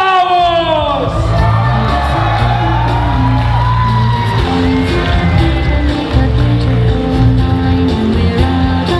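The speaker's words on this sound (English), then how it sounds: "Ladies and gentlemen, a round of applause, Kit Fister!" At a gaming expo cosplay show, a large crowd cheers, whoops and shouts for a Kit Fisto cosplayer from Star Wars, a loud, sustained roar of voices and applause filling the hall throughout.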